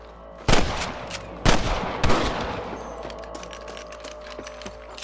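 Gunfire in the Western video game Red Dead Redemption: three sharp, loud shots about a second apart, each with a ringing tail, then softer scattered distant pops over a steady background hum.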